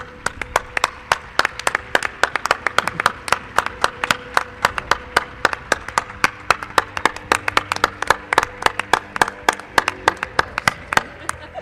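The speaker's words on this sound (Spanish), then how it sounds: "quiero un aplauso, Clara Tauces." Applause from a live radio show audience in Mérida greets guest Clara Tauces, a rapid, evenly paced run of crisp hand claps held steady for the whole stretch at close range.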